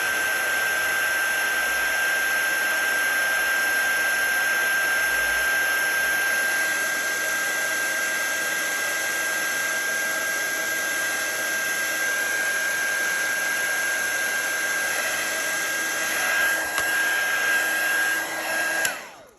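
Hair dryer blowing to dry watercolour paint on a handmade card, a steady loud whine with a fixed high tone held for about nineteen seconds before it cuts off at the end.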